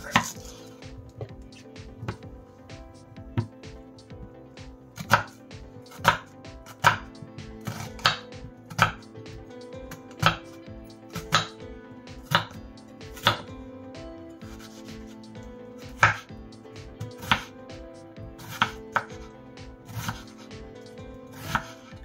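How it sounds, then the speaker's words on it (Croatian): An onion is chopped with a knife on a board, giving steady, fairly regular sharp taps at close range for a long stretch, with no talking. "Seckamo luk."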